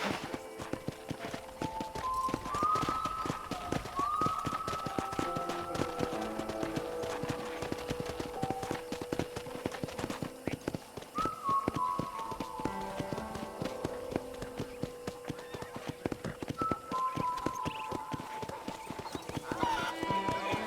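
Horse hooves clip-clop at a trot in the video game Red Dead Redemption, steady and continuous under light background music, with an occasional faint whinny.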